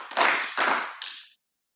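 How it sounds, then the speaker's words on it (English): Open mic audience clapping in unison three times, loud and close: two long claps followed by a shorter third, then silence. "if you're happy to be alive, just clap 3 times"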